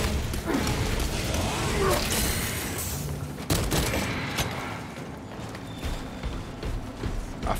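Dense enemy gunfire crackles through a Warhammer 40,000 Space Marines game battle, a busy barrage of shots and impacts with mechanical clatter underneath and a louder crack midway, continuing steadily to the end.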